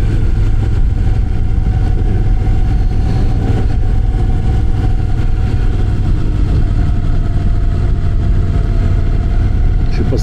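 A constant loud engine drone from a Moto Guzzi V9 Roamer dominates, with Vespa scooters passing close by as a nasal buzzing whine layered on top.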